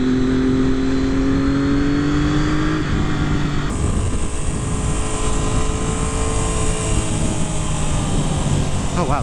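A 600cc sport motorcycle, an Aprilia or Triumph Daytona, revs and pulls with a loud rising engine whine that climbs, shifts, then settles into a continuous high drone under wind noise.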